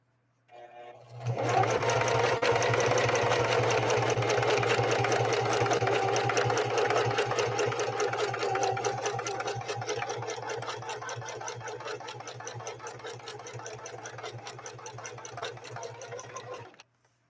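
A Singer 4411 heavy-duty sewing machine runs a blind hem stitch in one long continuous burst of fast, rhythmic mechanical clatter with a steady motor hum, close and loud, starting abruptly and stopping at the end.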